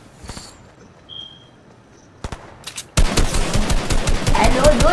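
Rapid gunfire bursts in the Fortnite video game, a few sharp isolated shots early on, then a dense, loud sustained volley of repeated shots filling the second half.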